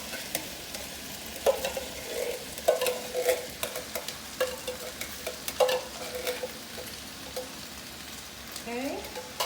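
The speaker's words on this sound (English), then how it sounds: "I'm gonna add this can of crushed tomatoes to the veggie mixture." Canned crushed tomatoes stirred into a sizzling vegetable mixture for lasagna, steady frying crackle with repeated spoon scrapes and knocks against the pan, close and clear, with no speech.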